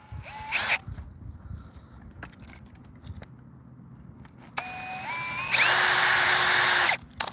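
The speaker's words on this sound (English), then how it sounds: "I'm going to open it with a larger drill anyway" A power drill bores a hole during track maintenance work: two short high whirring bursts, with a longer loud steady run near the end, all close and separated by quiet handling noises.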